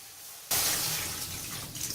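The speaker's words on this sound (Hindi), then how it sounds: "पानी ये बहुत डालेंगे" Water suddenly gushes into a cooking pot for paya, starting abruptly and pouring steadily as a loud rushing splash.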